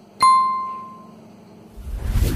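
A single bright notification bell ding rings out clearly, its tone decaying over about a second before quiet, with a burst of broadband noise toward the end.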